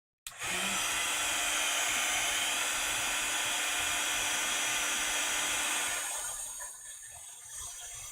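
A heat gun used for embossing switches on with a click and blows a steady, loud, whooshing whine close by, holding constant for several seconds before easing off slightly toward the end.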